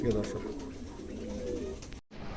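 A pair of Roman pigeons coo softly in low, rolling calls, close by, with a faint voice briefly in the background.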